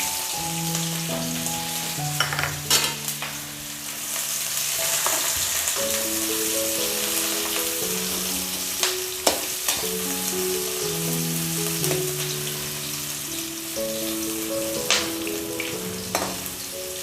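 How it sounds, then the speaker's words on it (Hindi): Lengthwise-sliced medium onions fry in hot oil on a high flame, a steady close sizzle with occasional stirring clinks and scrapes and no talk. "2 मीडियम साइज प्याज, जिसको हमने लंबाई में काट लिया है, इसमें हाई फ्लेम पर इसको गोल्डन ब्राउन कर लेते हैं"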